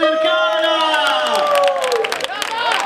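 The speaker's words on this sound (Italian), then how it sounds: "Facciamo un applauso alla band per questa Notte Bianca" A festival crowd at a Notte Bianca night event in Lercara Friddi claps and cheers for a band after a song, loud, dense applause over sustained musical tones and some voices.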